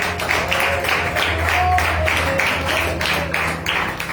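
A church congregation claps in steady, rhythmic unison during worship, the regular hand claps filling the hall over a low background drone.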